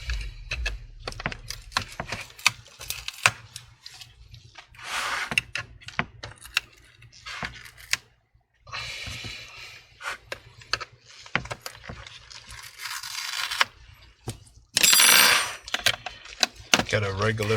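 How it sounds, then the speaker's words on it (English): A Phillips screwdriver removes screws from an HP 15 laptop, making scattered small clicks, taps and light metallic rattles close up, with someone talking intermittently. "Get a regular Phillips screwdriver, start removing the screws here."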